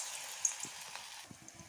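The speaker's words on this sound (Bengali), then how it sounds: "এখন অল্প অল্প করে এটা ভেজে নেব সুন্দর করে" Onion fritters (peyaji bora) frying in hot oil in a kadai, a soft, steady sizzle with a few faint pops and small bubbling bursts, quiet and close.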